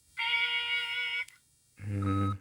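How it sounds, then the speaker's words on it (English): An answering machine in The Wolf Among Us video game gives a clean, steady electronic beep lasting about a second. After a brief pause, a lower droning tone follows. "leave a message at the beep"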